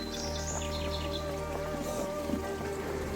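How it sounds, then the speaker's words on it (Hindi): Faint bird chirps and twittering early on, set against a steady background rush like flowing water, with scattered light knocks. "परिंदों की चहचहाट"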